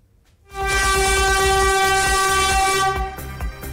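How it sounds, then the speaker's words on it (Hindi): A Vande Bharat train running between Patna and Ranchi sounds a long, loud, steady horn over the rumble of its wheels, starting abruptly and holding for about two and a half seconds before fading. "पटना से रांची के बीच वंदे भारत ट्रेन की औपचारिक शुरुआत मंगलवार से होने जा रही है।"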